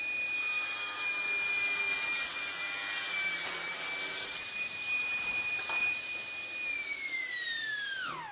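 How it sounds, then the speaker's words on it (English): A table saw rips through pallet wood in one long, loud, steady cut with a high whining tone; near the end the pitch slides downward as the cut finishes. "I'm ripping the width first so that the blade can reach all the way through"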